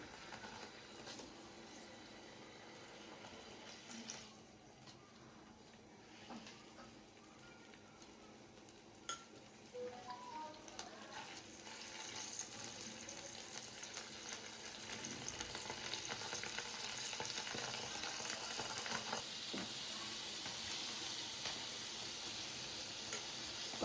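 Paneer slices sizzle steadily in ghee on a hot pan, a continuous close frying hiss with occasional soft clinks of utensils, growing a little louder toward the end with no talking.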